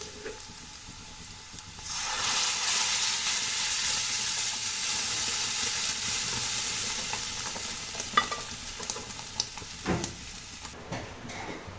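Golden-brown onions and dal frying in a pan rise into a loud, steady sizzle that settles after a few seconds, with a few clinks of a stirring spoon near the end and no talking.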